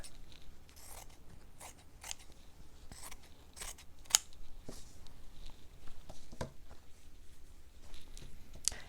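Scissors make a series of crisp snips while trimming a piece of deep turquoise fabric for a stitched fabric gingerbread house. The cuts are irregular and close, with faint handling rustle between them.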